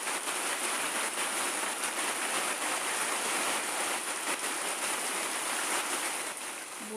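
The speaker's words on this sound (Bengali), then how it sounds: "বলতে না বলতে বৃষ্টি নেমে আসলো।" Steady rain pours down outside a rural home during the monsoon season, a dense, even hiss of drops on surfaces that holds without a break.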